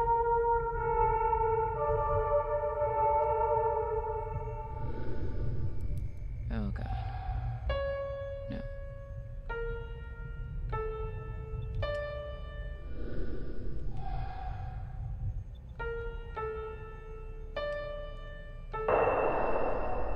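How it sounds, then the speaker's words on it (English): Piano notes in the horror video game Fatal Frame: Mask of the Lunar Eclipse ring out one by one in a slow, halting melody over a low humming ambient drone, with a sustained tone and a brief glitchy effect early on. "Play the piano by following the notes."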